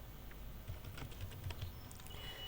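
Computer keyboard keys tapped in a quiet room while typing a prompt into ChatGPT, a soft irregular patter of clicks with a few slightly louder strokes over about two and a half seconds.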